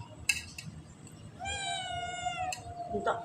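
A domestic cat lets out one clear, sustained meow lasting about a second, close and moderately loud, framed by a few soft clicks and clinks in a quiet room.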